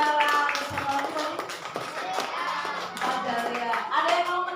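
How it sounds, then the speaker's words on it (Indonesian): Children in a third-grade primary school classroom clap in a short, uneven burst of applause, with scattered taps and a teacher's voice speaking over it. "Tepuk tangan untuk Yuji, untuk Inara"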